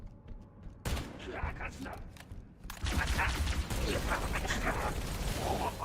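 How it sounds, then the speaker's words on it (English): Gunfire in the Halo game fired right after a reload, rapid loud bursts of shots with mechanical clicks, close up, the firing growing heavier midway through. "Try shooting it right after you reload."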